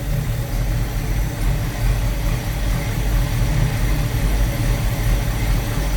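A 1971 Plymouth Cuda with a coolant leak that accelerates poorly runs steadily, giving a continuous low engine rumble at idle throughout, with no talking.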